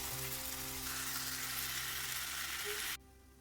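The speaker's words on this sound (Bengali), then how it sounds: "কষিয়ে নেব 2 মিনিট, একটু কষিয়ে নিচ্ছি" Spiced food sautéing in a pan for a home-cooked meal, a steady faint hiss of frying that runs continuously and then cuts off abruptly near the end.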